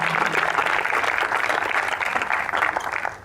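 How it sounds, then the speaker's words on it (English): An audience at the Flint Hills Trail's Rail Trail Hall of Fame induction ceremony claps in a dense, steady round of applause that fades slightly at the end. "Give all of yourselves a round of applause."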